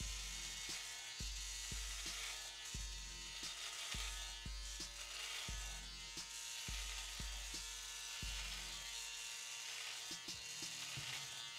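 An electric beard trimmer with a zero-gap blade runs at high speed, a steady close buzzing hum with a regular low-pitched pulsing throughout, faint overall and with no speech.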